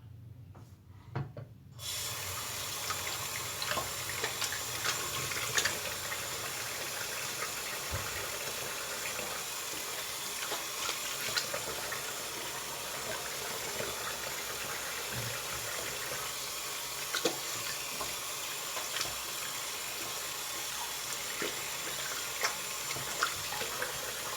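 Tap water runs steadily into a bathroom sink for rinsing after a shave, a constant hiss and splash that starts after a short quiet moment and carries on unbroken, fairly close.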